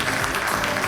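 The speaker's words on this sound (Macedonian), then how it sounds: "аплауз за прекрасните балерини кои ни го изигра овој прекрасен бал" An audience applauds ballerinas after a ballet number at an inclusive dance show, a dense, steady burst of clapping close and loud for a brief moment.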